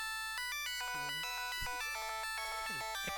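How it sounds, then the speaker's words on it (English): The Ectospasm ringtone from a video game: a bright electronic melody of stepped, beeping tones in rapid repeating patterns, loud and alone for about three seconds. "Ectospasm ringtone."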